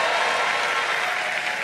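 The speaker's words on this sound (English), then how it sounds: "Somebody give God a clap offering tonight." Church congregation applauding at a revival service, a dense, steady wash of many hands clapping at once with no clear individual claps, fairly loud throughout.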